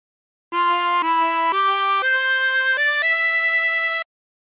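A 16-hole tremolo harmonica plays a short phrase of Yellow Rose of Texas: six sustained, reedy chords stepping upward, each held about half a second, loud and close with no talking.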